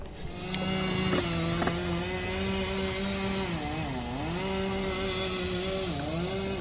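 A weed whacker drones steadily near a dock collapsed after Hurricane Irma, its small two-stroke motor holding a continuous buzzing tone that dips and rises in pitch as the throttle shifts, fairly close and with no voices.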